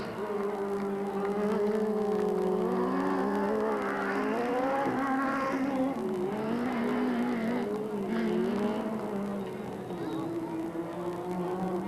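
A sportsman-class race car at Delta Speedway brakes hard with a long wavering tire squeal and skid over roaring engines and crowd noise, loud and continuous throughout.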